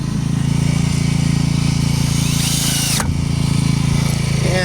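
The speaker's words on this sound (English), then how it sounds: "And put the last few screws in." A power drill drives the final screws into a DIY wooden fence, a loud, close, continuous motor whine with a steady buzzing hum and a brief sharp change midway.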